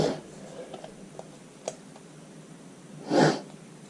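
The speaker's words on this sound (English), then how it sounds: "And, like, I'm sniffling," A person sniffles close to the microphone, with one brief nasal sniff early on and a louder, fuller sniffle near the end, set against quiet room tone with small ticks between.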